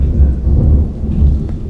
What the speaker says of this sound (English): That thunder is loud.